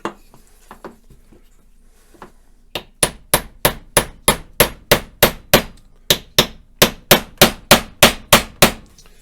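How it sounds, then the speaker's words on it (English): A hammer drives a nail into a pine log: a few light taps, then about sixteen sharp, evenly spaced blows, loud and close with no talk. "So this one's kind of tricky to nail."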